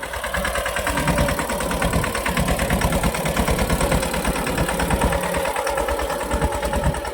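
A tractor engine runs steadily while pulling a plow through a groundnut field, a loud, continuous low rumble with a rhythmic chugging throb, close by and with no talk throughout.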